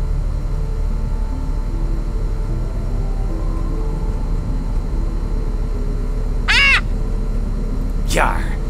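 Two cawing crow calls in the horror game FNAF Ultimate Custom Night, each short and rasping, a few seconds apart near the end, over a constant low droning game ambience.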